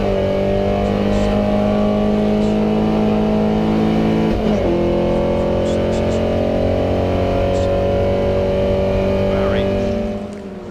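Historic race cars, a Porsche 356 among them, accelerate away at the Goodwood Revival, several loud engines rising in pitch together over a steady roar that fades slightly at the end, with a commentator's voice over the top.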